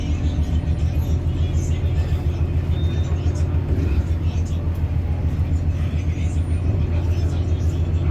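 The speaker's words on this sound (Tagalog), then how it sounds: "Grabe oh, hanggang doon sa dulo puno ng sasakyan." Heavy road traffic with cars packed bumper to bumper, a steady low engine rumble and hum filling the scene throughout, close and continuous with no pauses.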